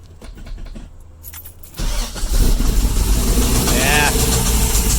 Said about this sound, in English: Yeah, that sounds awful. Yeah, alright, it starts.